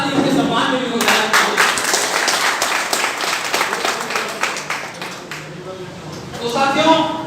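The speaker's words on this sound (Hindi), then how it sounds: "एक जोरदार ताली इनके सम्मान में भी हो जाए" A crowd gives loud, sustained clapping in honour of guests arriving late to an event, filling the room for several seconds with dense overlapping claps, swelling again toward the end while a voice speaks faintly underneath.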